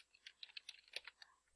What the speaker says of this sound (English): as I was typing that in the name your site window